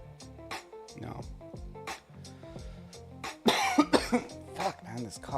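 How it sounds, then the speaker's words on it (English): A man coughs hard at close range in a sudden rough burst midway, followed by a few more harsh coughs, with tonal voice-like sounds before and around them. "this cough"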